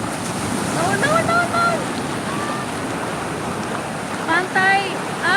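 Ocean waves wash at Anyar beach in a continuous noisy surf and wind rush, with children's and people's voices chattering faintly over it.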